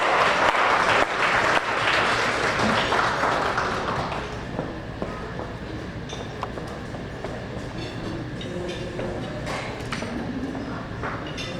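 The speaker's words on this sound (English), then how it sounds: "Please give her a round of applause." At an awards luncheon in Montclair, NJ, an audience applauds a liturgical dancer. The dense clapping is loud for about four seconds, then thins and fades to a softer patter.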